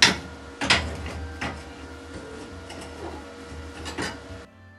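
A welded steel hoop for a garden brazier is levered out of its metal former, giving a few sharp metallic clanks and scrapes, the loudest at the start, then quieter knocks.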